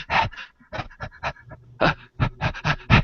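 A voice imitates the heavy breathing of an invisible white dragon lurking in a cavern, with rhythmic, raspy panting breaths that alternate close and loud with short pauses.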